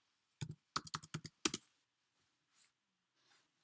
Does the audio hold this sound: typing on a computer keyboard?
yes